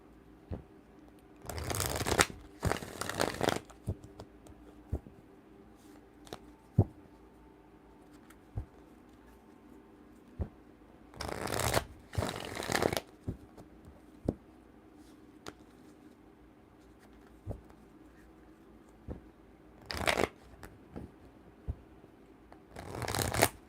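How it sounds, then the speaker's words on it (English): A deck of cards being shuffled at close range in three distinct bursts of riffling, separated by quiet pauses with light taps and handling noises. "Let's get these cards shuffled."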